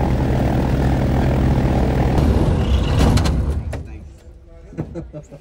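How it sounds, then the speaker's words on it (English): Small propeller airplane landing at a flying club, a loud steady engine drone that winds down, followed by a few clunks and some talking. "First landing in the new plane."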